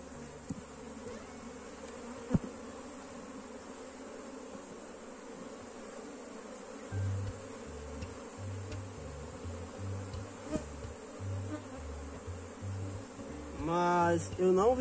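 A honeybee swarm buzzing at an open hive during a colony split, a steady dense drone with a few louder passes near the end, with speech faintly audible at times.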